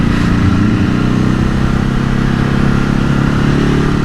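A bin lorry's heavy engine rumbles loudly and steadily up close, a rough low drone with rattling clatter throughout.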